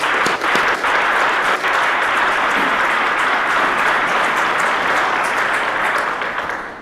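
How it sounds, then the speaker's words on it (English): Sustained audience applause at the opening ceremony of a police curling championship, a dense, steady wash of many hands clapping that holds level for several seconds before easing slightly at the end. "I'd like to give them a round of applause."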